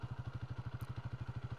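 A warm 1980 Honda CB 250 RS idles at about 1750 rpm, its single-cylinder engine thumping in a steady, even, close-up pulse, with no voices.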